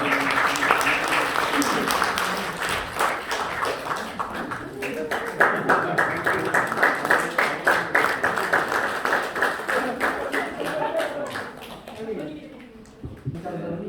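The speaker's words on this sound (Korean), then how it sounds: "박수하겠습니다." A church congregation applauds at a Korean retirement and honorary pastor ceremony, rhythmic unison clapping at a steady beat that builds for several seconds and then trails off as speech resumes near the end.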